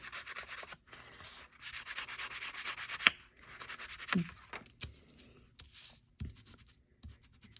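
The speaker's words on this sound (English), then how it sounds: "put embossing fluid on the edges of the tag." A dauber dabbing embossing fluid onto the edges of a paper tag gives soft, close scratchy rubbing strokes in short irregular bursts, with brief taps and pauses between them.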